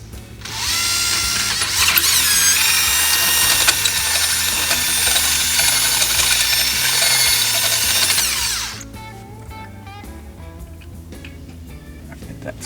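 A half-inch power drill whines loudly and steadily for about eight seconds while working on an alternator install on a De Tomaso Pantera, then spins down, leaving quieter clicking shop noise.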